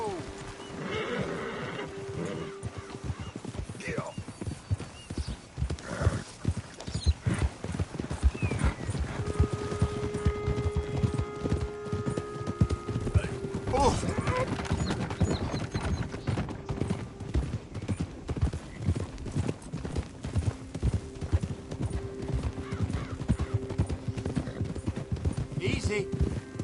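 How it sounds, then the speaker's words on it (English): Horse hooves clip-clop steadily and a horse neighs several times in a video game, with galloping rhythm through most of the passage and shouting voices over the action. "Get a hold of that horse, will you?"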